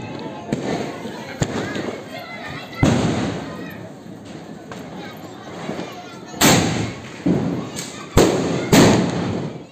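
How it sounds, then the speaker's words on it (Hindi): Blue Star mini sky shot firework going off outdoors during Diwali cracker testing, a run of loud sharp bangs and crackling bursts spaced unevenly, with people talking in between. "अभी हम टेस्टिंग करेंगे दोस्तों ब्लू स्टार फायरवर्क के मिनी स्काई शॉट की"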